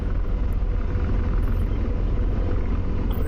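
AH-64 Apache attack helicopter in the DCS flight simulator, a steady low rotor and engine rumble holding constant throughout with no voices.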